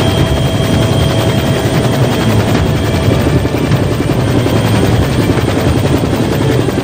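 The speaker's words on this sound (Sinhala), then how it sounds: "ශ්‍රී ලංකා ගුවන් හමුදාවේ බෙල් 212 වර්ගයේ හෙලිකොප්ටර් යානයක් යොදා ගැනීමට පියවර ගෙන තිබෙනවා" A Sri Lanka Air Force Bell 212 helicopter flying to fight the fire on a burning cargo ship off Colombo port; its rotor and turbine roar is loud, close and unbroken throughout, with no voices.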